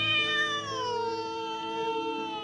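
A cat gives one long, close, drawn-out meow that starts high and slides downward, clear and fairly loud against quiet room background.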